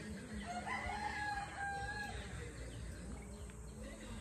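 A rooster crows on a small layer chicken farm, one drawn-out call at moderate distance rising and falling over a low barnyard background, fading after a couple of seconds.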